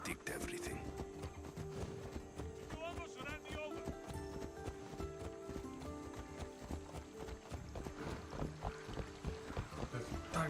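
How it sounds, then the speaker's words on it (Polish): A horse in Assassin's Creed Odyssey gallops with a steady, rhythmic clip-clop of hooves beneath game music and spoken dialogue. "Tak zajebisty jest ten koń."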